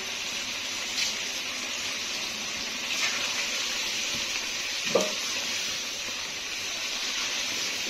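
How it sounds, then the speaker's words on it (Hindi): Spices for chicken nihari sizzle in a pan after a splash of water, a steady bright hissing fry with a few small pops and stirring clinks, no talk. "यहाँ पे मैं थोड़ा सा पानी ऐड करूंगी ताकि मसाले ना जलें और अच्छे से मिक्स हो जाएं।"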